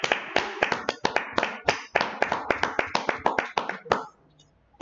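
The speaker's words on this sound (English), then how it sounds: "Let's clap it up" Audience clapping at an evening class gathering, loud irregular claps from a small crowd for about four seconds, then fading into near quiet with a faint voice.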